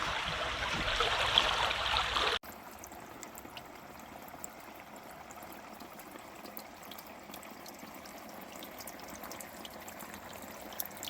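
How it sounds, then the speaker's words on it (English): A burst of loud rushing creek water cuts off abruptly, leaving a quieter, steady flow of water trickling and gurgling out around and under a small dam for the rest. "There's a little water coming out around it, kind of under it."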